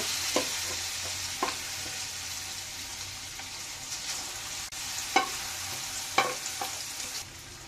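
Olives being stirred and fried in a pan for a pickle, a steady soft sizzle with several sharp scraping stir knocks scattered throughout; no talking.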